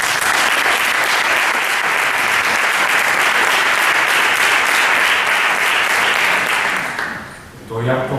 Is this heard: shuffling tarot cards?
no